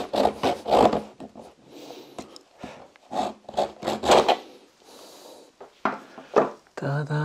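A BMW F10 diesel fuel filter is being cut open by hand, giving short repeated rasping, scraping strokes in uneven bursts, close and fairly loud, with brief pauses between cuts.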